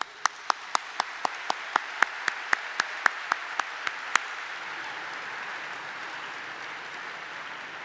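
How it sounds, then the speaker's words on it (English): A dinner audience welcoming a speaker to the stage gives a brief round of applause. Distinct, evenly spaced claps ring out clearly for about four seconds over a steady room hiss, then fade into quiet ambience. "let's first welcome her with very deserved round of applause."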